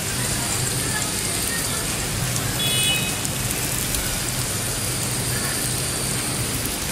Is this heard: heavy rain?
yes